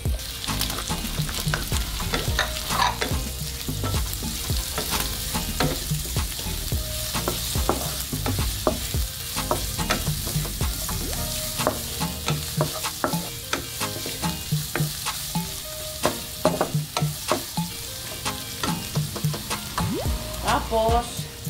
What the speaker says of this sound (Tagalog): Tapos, lagay natin ang ating sibuyas.